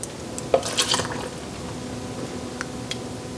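Hot canning liquid is poured into a jar packed with fresh green and yellow beans, giving a short wet splash and trickle near the start that fades into faint drips and quiet.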